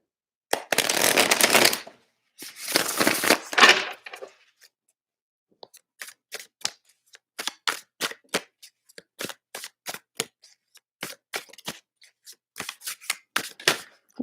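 Tarot and Lenormand cards being shuffled in two long riffling bursts, then a run of sharp, separate card snaps and flicks laid down one after another, close and clear in a quiet room with no talking.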